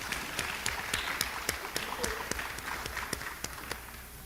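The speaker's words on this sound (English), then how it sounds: "I think that deserves another round of applause." Scattered audience applause at a university Black History Month event, a steady patter of individual claps at moderate distance, fairly thin and even with no voices over it.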